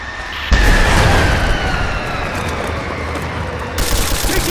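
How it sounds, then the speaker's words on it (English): Loud, sustained gunfire and explosions from the video game Rise of the Tomb Raider, a heavy blast opening into continuous rattling automatic fire with a fresh burst near the end, all close and dense. "Taking fire!"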